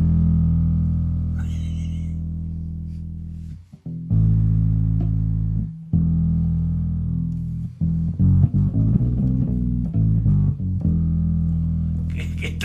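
A Kala U-Bass ukulele bass plays deep sustained notes close up, with a short gap and then a faster run of plucked notes.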